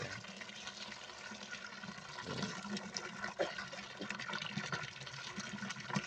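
Fresh water pours steadily into a catfish pond, pumped by solar power from a natural pond after the old water was drained; a continuous close gushing wash with no pauses and no voices.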